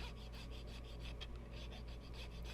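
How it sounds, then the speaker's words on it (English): A file rubs against the styrene chassis of a 1/32 scale Porsche 356 Speedster model in quiet, quick back-and-forth rasping strokes, faint and close, with steady background hum. "you can also take a file and just give it a little rub"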